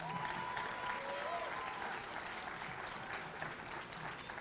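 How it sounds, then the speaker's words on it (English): An audience at a high school athletic league awards event claps for an academic team, a steady, even round of applause heard from within the room, with a faint voice briefly under it. "let's give our all Oakland Athletic League academic team a round of applause"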